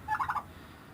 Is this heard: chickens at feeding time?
yes